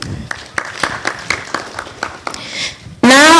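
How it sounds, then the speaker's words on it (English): Audience at an MFWA forum on radio, hate speech and election violence in Africa, a short patter of separate claps that thins out and is then cut off by a sudden loud burst of noise. "a round of applause to all of us who made it to today's program"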